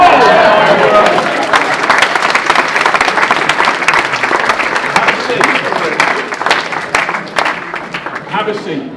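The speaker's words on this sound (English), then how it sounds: "And to huge applause, but very quietly" Audience applause at an annual general meeting talk, a dense, steady patter of many hands clapping that continues throughout and eases slightly toward the end.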